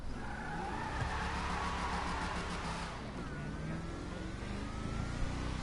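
A car in the GTA 5 video game drives and revs with a sustained engine drone, then skids with a thin tire squeal, continuous and loud throughout.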